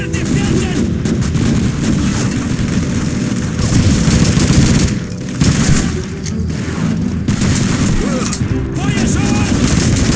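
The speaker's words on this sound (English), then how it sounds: "MG42! Near the building!" Loud, continuous battle din from the Call of Duty 2 video game, with MG42 machine gun fire among dense gunshots, heavy booms and artillery-like blasts, and shouting voices mixed in throughout.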